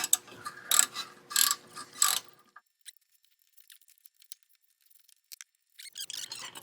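A ratchet loosening the caliper slide pin bolts on a 1998 Mercedes-Benz C230 W202 during a brake overhaul. Two short bursts of quick metallic clicking sound close by, followed by near silence and faint handling noise at the end.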